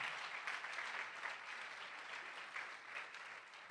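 A congregation in a church claps together in an offering of applause during a sermon, a steady, fairly faint patter of many hands spread through the room without voices on top.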